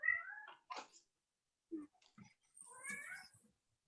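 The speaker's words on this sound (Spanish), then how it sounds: "¿Se oye mi gato?" A pet cat meows several times close by in a quiet room, with short separate calls spaced across a few seconds and no talking.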